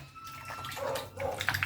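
Running water rinsing raw chicken in a kitchen, a short splashing, gurgling wash with uneven spurts, close and fairly quiet.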